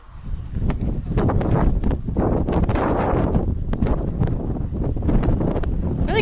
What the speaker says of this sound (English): We came lower and it got windier than up there.